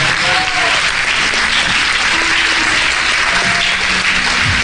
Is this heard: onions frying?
no